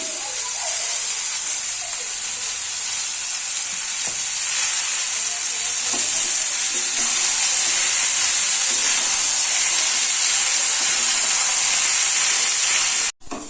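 Steady, loud sizzling of spices frying in a hot pan for kohlrabi curry, a continuous broadband hiss with occasional soft scraping, cutting off abruptly at the end.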